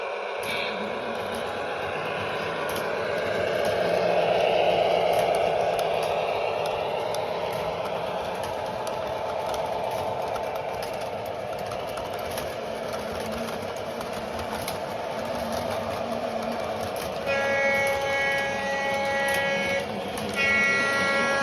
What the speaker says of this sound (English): Train is moving, Yardmaster.